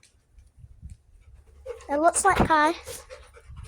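A dog pants in quick, rhythmic breaths close by, with a brief whimpery squeak in the middle, while a person speaks softly over it.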